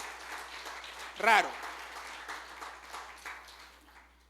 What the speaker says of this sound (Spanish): Denle un aplauso porque apenas estoy empezando